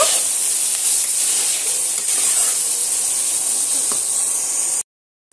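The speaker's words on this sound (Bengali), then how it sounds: "মটরটা আর আমি একসঙ্গে এটাও কিছুক্ষণ ধরে ভাজা ভাজা করে নেব।" Peas and vegetables frying in a pan for veg biryani give a steady, loud hissing sizzle that runs without pause, then cuts off abruptly near the end.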